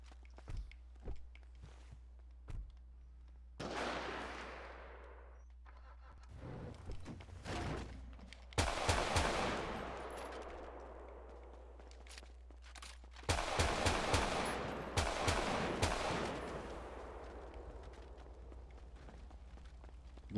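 Gunfire in the GTA 5 roleplay game: scattered sharp shots early, then several loud bursts of rapid firing with ringing decay, separated by quieter stretches of faint clicks and steps.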